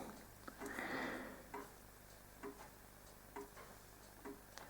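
Hermle grandmother clock ticking steadily in a quiet room, a soft evenly spaced tick-tock pattern with a brief rustle near the start, no voices.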